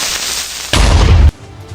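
A giant creeper explodes in a Minecraft-style video game, a single loud, booming blast that roars for about half a second before cutting off abruptly, set between quieter game ambience.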